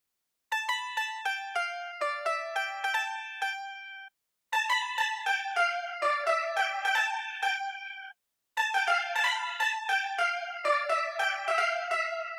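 A bright, plucked synth melody in an Afro swing beat run through the RAM reverb backwash grains preset, playing three phrases of chiming notes with smeared, shimmering tails, separated by short silences.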